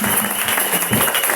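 A church congregation at a revival meeting claps together, a dense, steady wash of applause that stays loud throughout with no clear pauses.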